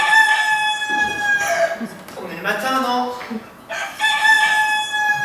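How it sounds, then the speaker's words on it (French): A rooster crowing during a stage show, its drawn-out call rising and falling in bright bursts, with people speaking and chuckling over and between the crows. "Je crois que j'ai entendu le coq chanter."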